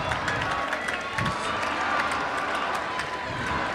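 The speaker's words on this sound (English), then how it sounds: "They're cheering on what has been one unbelievable team this year." Fans at a high school boys hockey game cheering their team, a continuous crowd roar with scattered claps and shouts, moderately distant, with no clear voice on top.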